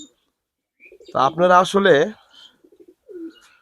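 Pigeons kept in a loft in hot weather give soft, low coos, brief and scattered around a man's nearby speech.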